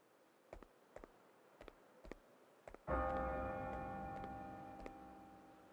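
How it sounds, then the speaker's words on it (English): A bell rings in the Bravely Default II video game: a series of soft, evenly spaced knocks is followed by one strong, resonant bell strike that sustains and slowly decays. "The bell!"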